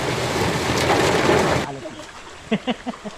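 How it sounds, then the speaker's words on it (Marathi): Dense rain roars for about a second and a half, then cuts to quieter ambience with a few short voiced sounds. "मित्रांनो जोरदार पाऊस सुरू झालाय"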